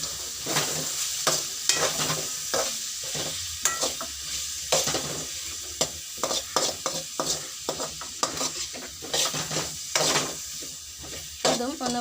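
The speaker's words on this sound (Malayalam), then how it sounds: "ഇനി ഇതിലേക്ക് ഉള്ളി വഴണ്ടതിലേക്ക് നമുക്ക് അരിഞ്ഞു വെച്ച തക്കാളി ആഡ് ചെയ്ത് കൊടുക്കാം" Chopped tomatoes are sautéed with softened onions in a pan for a chundaykka theeyal, with a steady sizzle under repeated scraping and stirring clatters of a spoon against the pan, close and fairly loud.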